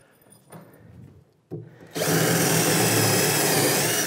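A power drill drives long screws into a wooden anchor block that holds a vise on a workbench. Quiet handling knocks lead into a loud, steady, sustained whir that runs to the end.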